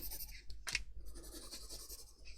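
Faint, close scratching of a pencil marking card for a fold-flat gift box, short strokes with a brief sharper scrape partway through.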